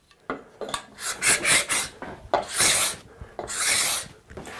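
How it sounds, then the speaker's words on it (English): Cabinet scraper shaving wood against the grain, pushed in repeated strokes that curl off fluffy shavings; a close, bright raspy scrape comes in several bursts of about half a second to a second each, with short pauses between. "now I can get a little wider shaving on here"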